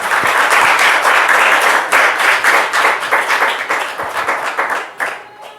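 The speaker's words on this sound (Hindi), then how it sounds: "हम तालियां बजाएंगे उस यीशु के लिए" A church congregation at a Christmas service claps together for Jesus, loud, close and rhythmic in quick bursts that swell and then thin out and fade toward the end.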